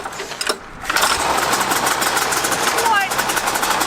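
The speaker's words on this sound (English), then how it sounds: "That's a snowmobile engine, son." A Mazda RX-7 fitted with a snowmobile engine cranks and catches, then settles into a loud, buzzy, close-up idle, with a voice speaking briefly over it.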